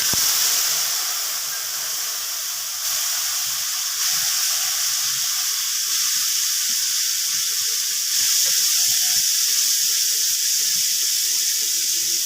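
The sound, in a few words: water added to hot pan with cauliflower, sizzling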